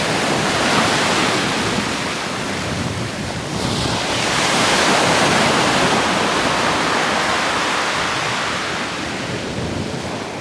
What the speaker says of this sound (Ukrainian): Океан навколо острова Фуертевентура це справжнє диво природи, яке зараз є просто позаду нас.